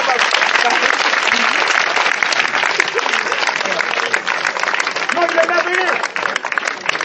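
A church congregation applauds loudly and continuously in a large reverberant room during worship, the dense clapping mixed with cheering voices and a speaker talking over the crowd.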